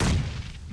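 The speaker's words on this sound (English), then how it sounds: "Nice nade." Grenade blast in PUBG Mobile during a competitive squad match, a low rumbling boom that fades out over a fraction of a second.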